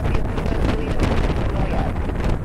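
Strong gusty wind roars and buffets the microphone at an airport during a high wind warning, a loud continuous rumble that masks other sounds.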